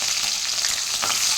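Tempering spices and green chilies sizzle and crackle in hot oil for tomato rice, a loud, dense frying hiss with small pops, heard close up.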